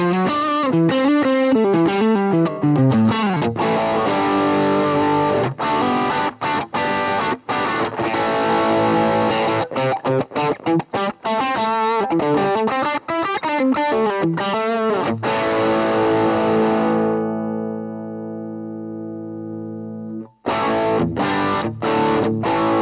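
An electric guitar runs through two stacked overdrive pedals, giving a loud, saturated distorted tone with chords and riffs, then a long sustained chord ringing out alone before brief playing resumes.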